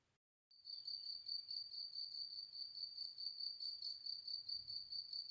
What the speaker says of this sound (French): Un grillon ou un milliard de grillons peuplent l'immensité